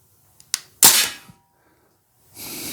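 A Crosman DPMS SBR CO2 blowback BB M4 rifle fires one sharp, loud crack preceded by small clicks, followed by a burst of gas hiss and silence, then another hiss rising at the end.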